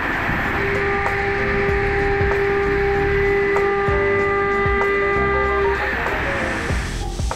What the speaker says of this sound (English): we've dropped to another AXD 4000, this time a 1-inch indexable mill, to go ahead and do the counter bores